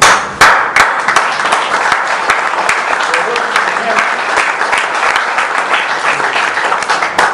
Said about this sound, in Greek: Και γι' αυτό θα χειροκροτήσω εγώ.